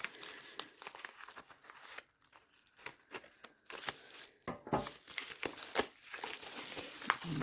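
Crinkly plastic packaging from an unboxing haul is handled and torn open, with close, repeated crumpling and rustling in irregular bursts that grow busier toward the end, and no talking.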